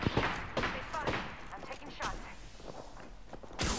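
Gunfire strikes a player during a battle-royale shooter match, a ragged burst of sharp impacts and shots scattered across the moment, loudest at the start and end, mixed with footsteps and busy game noise.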